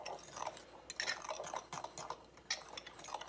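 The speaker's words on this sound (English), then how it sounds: "I like using a fork because sometimes it mixes it better." Fork scraping and clinking against a bowl while stirring cinnamon and sugar together, soft irregular taps and gritty scrapes at close range, fairly quiet.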